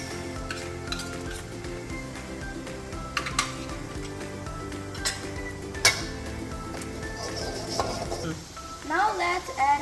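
Chilies sizzle in a hot pan with garlic, onions and curry leaves, a steady close frying hiss with occasional sharp spatula clicks and scrapes against the pan, while a voice speaks over the cooking.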